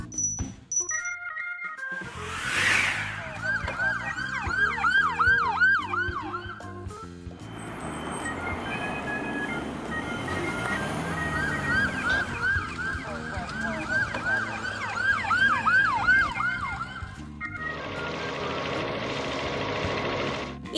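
An ambulance siren wails in repeating cycles, steady and fairly loud, with some mechanical clatter and background noise around it.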